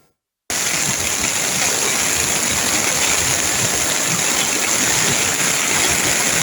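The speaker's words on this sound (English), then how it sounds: "gullies overflowed their banks" Floodwater from an overflowing gully in Portland after heavy rain rushes loudly and continuously, a dense roar that begins abruptly after a brief silence and holds steady.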